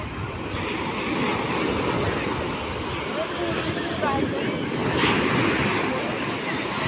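Sea waves rolling onto the beach at Puri, a dense continuous roar of surf with wind buffeting the microphone, loud and unbroken throughout.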